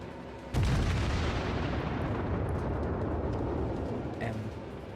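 A battleship salvo fires in World of Warships from the Japanese battleship Fuso, one sudden heavy boom followed by a long rumbling roar that slowly fades.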